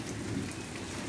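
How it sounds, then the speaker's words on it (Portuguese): Heavy rain pours steadily onto potted plants outdoors during a storm in Rio Grande do Sul, a dense continuous hiss and patter with no voices. "As minhas plantas na chuva."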